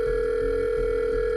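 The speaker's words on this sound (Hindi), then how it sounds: "उसने फिर से अपने फोन से जॉन को फोन मिलाया" A steady, loud telephone dial tone hums without a break, used as a phone sound effect in a horror story.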